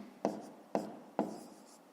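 Pen or chalk strokes writing a math solution for a fifth-grade exercise, three short scratching strokes spaced about half a second apart, quiet and close.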